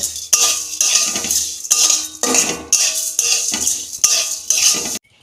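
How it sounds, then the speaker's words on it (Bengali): A metal spoon repeatedly scrapes and clinks against a pan while vermicelli fries in ghee, with rhythmic stirring strokes roughly every half second, loud and close, ending abruptly. "সিমুইটা আমি একটু ঘি দিয়ে ভালো করে একটু ভেজে নেব"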